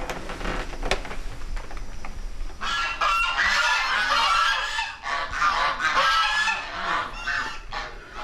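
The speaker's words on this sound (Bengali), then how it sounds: "এখানে হাঁসের প্যাক প্যাক ডাক রেকর্ড করা আছে, হাঁসের ডাক শুনছি স্যার" Ducks quacking in a rapid, overlapping chorus, loud and close, following a few seconds of quieter background noise.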